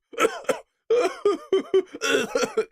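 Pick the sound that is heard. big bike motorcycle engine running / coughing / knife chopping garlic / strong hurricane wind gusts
coughing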